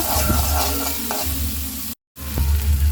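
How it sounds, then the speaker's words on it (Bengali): Onions frying in mustard oil as they are stirred, a steady close sizzle with scraping stir strokes, briefly cut to silence near the end before the sizzling resumes. "এখন আমি পেঁয়াজটাকে ভালো মতো নেড়ে চেড়ে ভেজে নেব"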